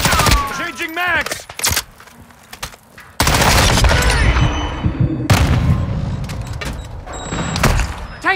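Gunfire rattles through a Call of Duty: Modern Warfare II team deathmatch at the Santa Seña Border Crossing, with rapid automatic bursts and heavy booms, loud and close, repeating in clusters, while voices speak over the fighting.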